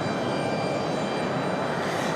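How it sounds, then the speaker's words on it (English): A Republic Airways passenger jet arrives at Raleigh-Durham airport, a steady broadband engine roar held at constant loudness for the whole stretch, with a faint high whine riding over the rumble and no voices. "Next arrival, Republic Airways 4497."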